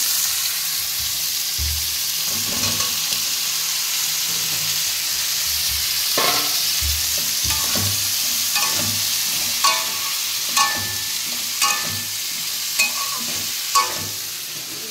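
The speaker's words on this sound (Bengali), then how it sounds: "এদিকে চিংড়ি মাছটা ভেজে নিচ্ছি।" Prawns fry in a hot pan with a loud, continuous sizzle that persists throughout, while a spatula stirs and scrapes with regular clacks toward the end. The sound is close and there is no speech.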